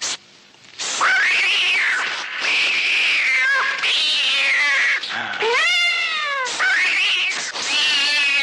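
A cat meows and yowls in long, loud, drawn-out wails, several calls one after another with short gaps, close and clear with no talking over it.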